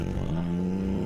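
A low, rumbling, growl-like snort plays as a warthog sound effect in a radio ad about snoring, loud and droning for about a second with no voice over it.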